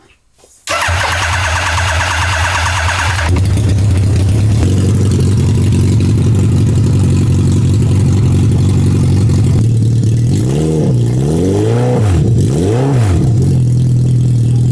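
A motorcycle engine fitted in a Fiat 126 cranks and starts after years unused, then runs at a loud, steady idle with a few quick throttle blips near the end.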